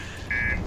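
Spaceship master alarm in the video game Outer Wilds, a short, bright electronic buzzer tone that briefly swells louder partway through, heard alone.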